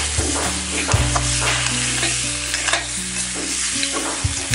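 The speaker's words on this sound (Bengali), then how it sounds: "ভালো করে নাড়িয়ে চাড়িয়ে মশলাগুলো মিশিয়ে নিন।" Mutton pieces coated in spices are stirred in a hot pan, with rhythmic scraping of the spatula and heavy, wet sizzling repeating every second or so, close and without speech.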